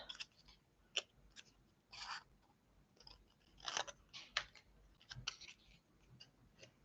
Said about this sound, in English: I'm then using that time to cut these little eggs out.